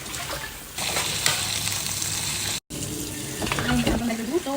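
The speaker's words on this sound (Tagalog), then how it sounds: "Hugasan ko muna yung kawali." Tap water runs into a kitchen sink while a wok is washed, a steady hiss of flowing water with clatter and scrubbing near the end, recorded close.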